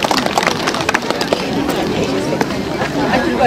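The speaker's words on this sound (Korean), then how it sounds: "큰 박수 부탁드리겠습니다" Applause from a seated crowd at a walking-festival opening ceremony fills the space with dense, continuous clapping, fairly loud, with crowd murmur underneath.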